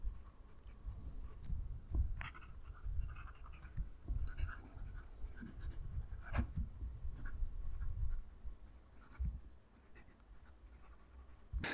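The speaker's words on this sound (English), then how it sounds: "The nib is a bit softer and I can feel a little bit through my fingers as I'm writing." A Leonardo Momento Magico fountain pen with a fine nib scratches steadily across paper, a quiet, close, continuous rasp made of short strokes and small ticks, with no voice.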